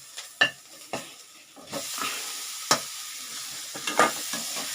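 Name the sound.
stirring flattened rice (aval) in a frying pan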